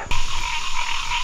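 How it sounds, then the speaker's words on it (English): A frog croaks in one close, loud burst that carries on as a steady buzzing rattle for just over a second. "Yeah, I hear you, frog."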